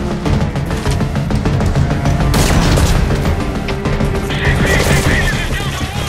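Gunfire in Metal Gear Solid 5: Ground Zeroes, loud rapid bursts of automatic fire and heavy booms, dense and continuous during a base escape.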